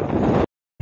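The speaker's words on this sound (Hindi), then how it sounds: "बहुत तेज हवा चल रही है" Strong wind buffets the microphone on the seashore at Dhanushkodi, a loud rushing roar that cuts out abruptly for a moment and then returns.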